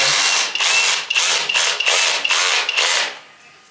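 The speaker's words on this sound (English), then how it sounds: "I am going to use my electric ratchet" Electric ratchet tightening bolts on a Mazda NA Miata engine, buzzing in six or seven short bursts with brief pauses between them, loud and close, alone without talk.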